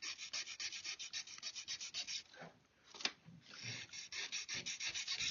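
A hand file rasps across a metal part from a swivel breech rifle kit, with even back-and-forth strokes, a short uneven pause near the middle, then steady quiet strokes again, close and alone.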